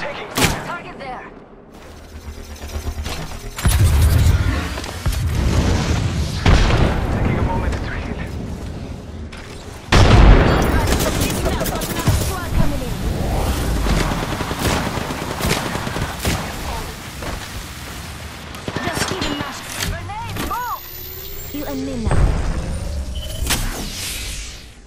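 Gunfire from the Apex Legends video game, bursts of shots and rapid fire scattered across a busy firefight, with heavy impacts around the middle, mixed with game effects and voices talking throughout.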